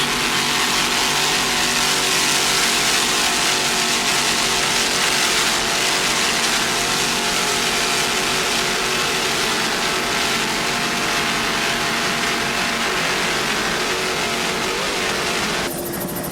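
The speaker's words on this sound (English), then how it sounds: "Just listen to those Merc Bop engines. A lot of power there." Racing powerboats with twin 1,350-horsepower Mercury inboard engines roaring continuously in a 1998 open-class race on Chesapeake Bay, a loud sustained dense engine drone with no break.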